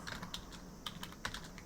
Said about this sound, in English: Let me just try and type it down.